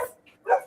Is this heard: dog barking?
yes